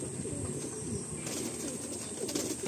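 Pigeons in a loft in Garia, with soft, low cooing mixed with faint rustling and chirps, fairly quiet and continuous throughout.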